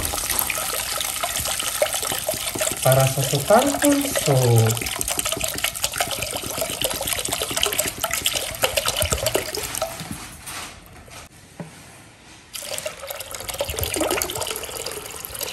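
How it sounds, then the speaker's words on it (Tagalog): Tap water running into a cooking pot for sotanghon soup with crab, a steady close splashing pour that fades out partway and then picks up again, with a brief spoken remark near the start. "mag-add ako ng tubig"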